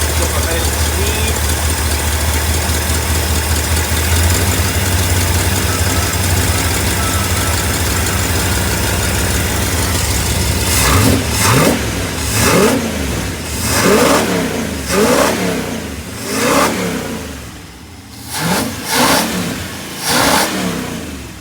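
A 1958 Ford F100 truck engine runs at a steady high idle, then drops and revs in a series of rhythmic blips up close. Voices speak briefly over it.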